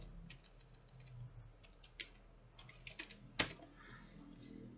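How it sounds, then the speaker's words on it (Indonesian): Keystrokes clatter on a computer keyboard in irregular bursts, soft clicks with a few sharper taps, close by and alone with no talking. "saya ketik slash VPA, volume price untuk daily"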